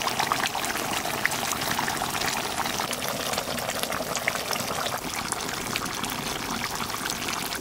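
A large freshwater fish curry with tomato simmering in a pot, a dense, even bubbling hiss that stays loud and unbroken throughout.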